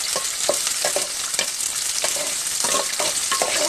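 Onions, curry leaves and dried red chillies fry and sizzle in hot oil for a fish kuzhambu, a steady close crackle broken by repeated stirring scrapes, with no voices.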